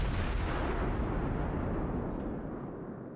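Heavy naval guns of a battleship boom in a naval video game, one deep, loud, rumbling blast that rolls on and slowly fades over a few seconds.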